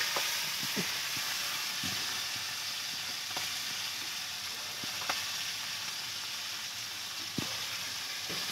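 Fish fries in a pan with a steady, moderately quiet sizzle and occasional small pops and crackles throughout.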